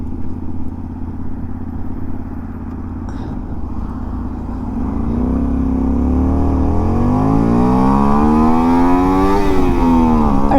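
Honda Varadero 125 motorcycle engine on a ride, a steady hum that rises into a revving climb, with pitch sweeping up and down through gear changes, loud and close with no talk.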